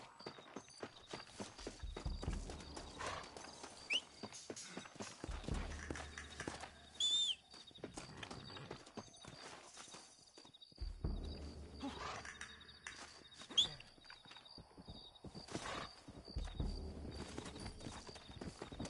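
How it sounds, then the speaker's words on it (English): Horse hooves clip-clop in a PS4 video game, repeated footfalls in uneven runs of trotting at moderate distance, mixed with other game sounds. "Looks like Carlos left us some horses"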